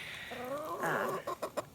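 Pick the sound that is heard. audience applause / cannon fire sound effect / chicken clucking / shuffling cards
chicken clucking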